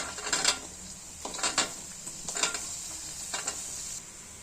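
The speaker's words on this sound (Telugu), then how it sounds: "ఇలా ఫ్రై అయిపోయాక ఆనియన్ వేసుకుందాము." Garlic and onion fry in hot oil with a steady background sizzle, while a utensil stirs and scrapes the pan in four or five short rhythmic bursts.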